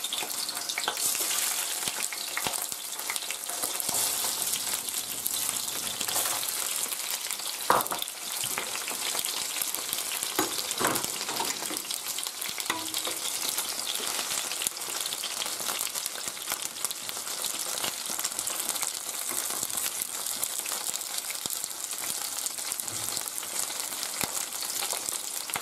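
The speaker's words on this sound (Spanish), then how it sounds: "Lo primero que tenemos que hacer es sellar las gambas y las cigadas." Prawns and langoustines searing in hot olive oil, a dense continuous sizzle and crackle with occasional pops and light handling, close and steady throughout.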